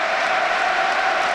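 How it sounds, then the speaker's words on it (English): A Brighton & Hove Albion stadium crowd at a home football match against Burnley makes a dense, steady roar of cheering and applause that stays loud and continuous throughout. "Brighton crowd getting behind their team."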